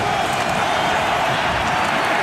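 A packed football stadium crowd at a Panthers–Giants game roars continuously, a dense, loud, steady wall of cheering and noise with no pauses.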